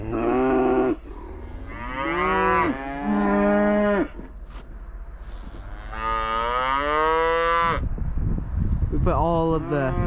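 Several loud, drawn-out moos from cows and heifers in a pen, one after another, close by, with a burst of rustling noise near the end.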